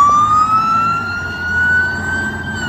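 A toy traffic police car sounds a loud, steady electronic siren wail that slowly rises and falls in pitch across the clip, with no talking.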